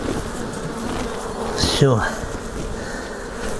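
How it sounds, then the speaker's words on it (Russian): A close honeybee buzzes past a hive at an apiary, a rising and falling drone over a low background hum of bees, while someone briefly speaks. "вот тут пчелы"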